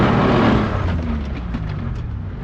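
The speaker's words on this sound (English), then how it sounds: "Warming the tires up in the gravel" A Toyota 4Runner spinning its tires in gravel, a loud, close engine roar with rough crunching that fades slightly over a couple of seconds, no talking.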